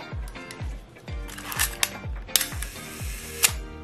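Old film camera's slow shutter and mirror-up mechanism from a junk-shop haul, firing in a steady series of about eight close mechanical clicks and whirs, roughly two per second, with sharper snaps near the end.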